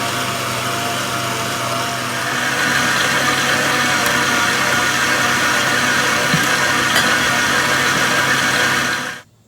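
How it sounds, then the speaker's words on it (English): A stand mixer kneading cinnamon roll dough at medium speed, a loud continuous high motor whine with a steady grinding texture that steps up slightly a few seconds in and runs unbroken until it cuts off abruptly at the end. "Right, that's the dough, had 8 minutes in the stand mixer."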